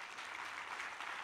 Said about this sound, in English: Please join me in giving him a very warm applause.